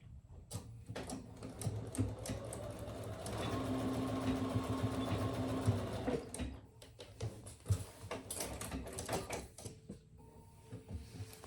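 A sewing machine basts a lining piece for a travel jewelry case, stitching 1/8 inch from the top edge in a steady mechanical whir with stops and starts, close and fairly loud, with handling clicks between runs.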